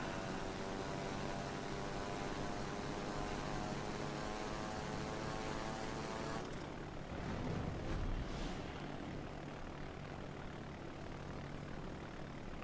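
Carrier-launched bomber planes in World of Warships: Legends drone overhead, a steady propeller engine hum that holds close and constant, then shifts and thins midway with a brief swell of rushing noise.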